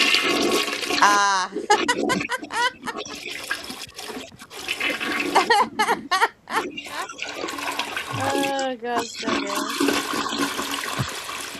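A toilet flushes and refills at length, with rushing, gurgling water that swells and dips over about ten seconds while people talk and react over it.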